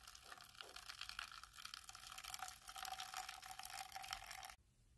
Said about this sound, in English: And then I pour the hot water right inside.